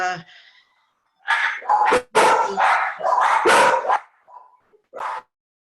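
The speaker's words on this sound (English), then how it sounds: "Those are Tina's dogs." Several dogs bark in short, loud bursts and clustered volleys, with a faint whimper between, the barking heard alone without talk.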